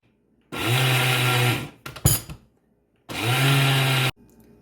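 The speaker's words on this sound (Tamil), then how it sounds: "முதல்ல எள்ளை அரைத்து எடுப்போம். பல்ஸில் விட்டு அரைத்து எடுப்போம்." A mixer grinder pulses sesame seeds in two loud bursts of whirring motor, about a second each, separated by a short rattle of the jar, with no voices.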